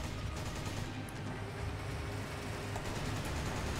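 Turret-mounted machine gun in the Resident Evil 5 video game firing a continuous, dense stream of rapid shots that holds steady and loud throughout, with no talking over it.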